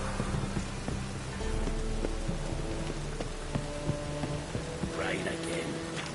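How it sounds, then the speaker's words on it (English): Steady rain falls in The Witcher 3: Wild Hunt as a dense, even hiss, with a low droning hum and soft tonal game music sitting underneath throughout. "Rain again."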